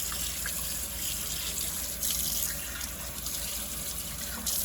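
A faucet runs steadily as a DeLonghi espresso machine's filter basket is rinsed under it. The water gives a constant close hiss and splash with slight surges, and there is no talk.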